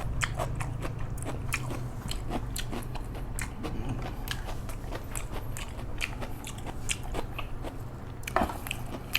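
Close, crunchy bites and chewing on fresh spring onion during a Thai seafood meal with steamed squid, a steady run of crisp crackles and crunches repeating throughout with no talking.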